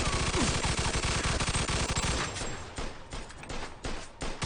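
Rapid bursts of automatic gunfire from a video game shootout, loud and dense for the first two seconds, then sparser scattered shots and rattling impacts.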